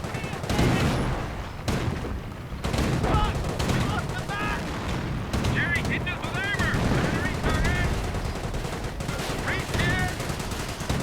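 Video game battle with artillery from 25-pounder guns and rockets, rapid bursts of gunfire and booms crackling over one another, dense and continuous, with a voice talking over the din.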